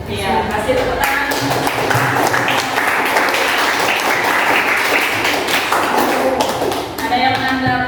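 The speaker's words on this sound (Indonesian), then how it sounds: "Iya, kasih tepuk tangan." Students in a classroom clap after a group presentation, a loud, close, uneven patter of hands with some thumps and taps, mixed with voices, ending in a brief lull before a few more claps.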